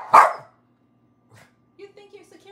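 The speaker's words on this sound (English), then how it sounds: "Why are you barking?" A pet dog barks once indoors at home, a single loud close bark followed by near silence, then brief faint voice-like sounds.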